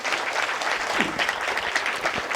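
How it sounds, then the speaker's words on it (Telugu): An audience claps loudly for someone speaker at a spiritual youth gathering, a dense sustained burst of many hands from a nearby crowd. "గట్టిగా చప్పట్లు కొడదాం మేడంకి"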